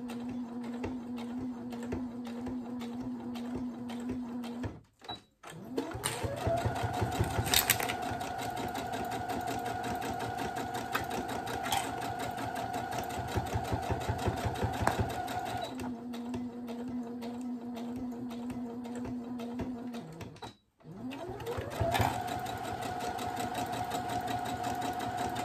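A sewing machine runs in steady, continuous bursts while stitching twice over the handles of a fabric cake bag, pausing briefly as the work is turned at a corner before starting up again.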